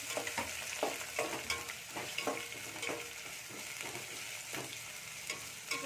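Ingredients for vegetable pulao fry in hot oil over a high flame, a steady close sizzle broken by repeated scraping stirs, with no talking.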